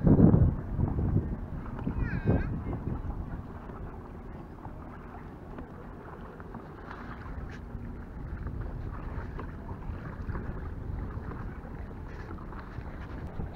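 Steady breezy wind buffeting the microphone while out on the water in an inflatable Hobie Mirage i11S kayak at Swanage, with a low continuous rumble, some water movement and a brief burst of nearby voice near the start.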